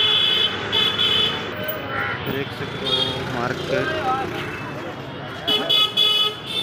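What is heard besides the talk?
street traffic with honking horns under a bridge in Mumbai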